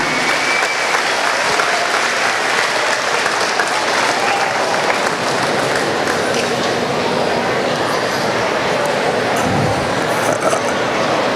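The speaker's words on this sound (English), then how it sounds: "You're going to get a standing ovation." A crowd gives a standing ovation for a retiring coach on a basketball court, sustained dense clapping with cheers filling the whole stretch at steady loudness.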